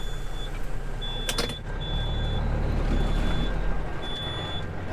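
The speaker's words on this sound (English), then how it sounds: "Hey, you get to enjoy the lovely beeping sound." A vehicle's reversing alarm beeps in slow, regular pulses over a steady engine rumble, with a brief clatter partway through.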